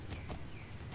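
Hooves of a level 9 horse in the Star Stable Online video game clop in a quick, steady, even rhythm over a soft background hum.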